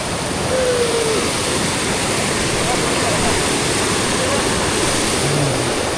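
Siddheshwar waterfall in full flood during heavy rain, a loud, steady roar of rushing water filling the whole stretch without a break.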